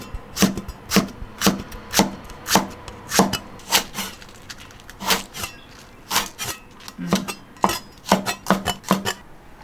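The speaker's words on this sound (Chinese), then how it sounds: "切点姜片，切点干辣椒。" A knife chops ginger slices and dried chili peppers on a board in a home kitchen, with sharp, close knocks in quick irregular bursts and short pauses between them, no voices.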